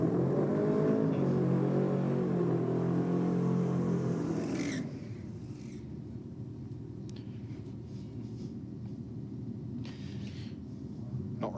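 A race car at a drag track on a Euro versus JDM night roars loudly through a burnout for about four seconds, then cuts to a lower, steadier rumble with faint distant noise behind it.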